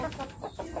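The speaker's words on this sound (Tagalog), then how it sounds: "Gustong pumasok ng native na tandang." A native rooster clucks in a few short, close bursts while pecking at a plant it likes to eat, fairly soft and with no talk over it.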